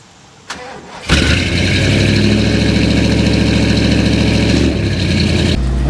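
A 1973 Lincoln Continental engine cranks with a couple of clicks, catches and settles into a loud, steady rumbling idle close by, easing slightly near the end.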